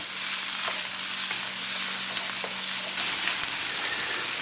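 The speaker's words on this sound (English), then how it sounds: "We're just going to cook this for a little bit until all the veggies soften." Vegetables frying in a pan for Ethiopian enkulal firfir, giving a steady, close, hissing sizzle with faint crackles and a low hum under it, and no voices.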